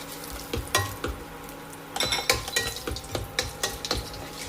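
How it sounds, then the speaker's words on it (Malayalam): Whole spices (bay leaf, cinnamon, star anise, cardamom and cloves) frying in oil with a teaspoon of coconut oil: a steady close sizzle broken by the clinks and scrapes of stirring in the pan. "ഈ എണ്ണയുടെ കൂടെ ഒരു ടീസ്പൂൺ വെളിച്ചെണ്ണ കൂടെ ചേർക്കുവാണ് അതിലേക്ക് ഓൾ സ്പൈസസ് ഇട്ട് കൊടുക്കാം"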